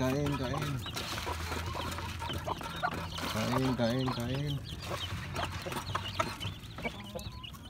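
Native and Rhode Island Red chickens cluck continuously while feeding in a backyard, with overlapping close calls and a person talking now and then.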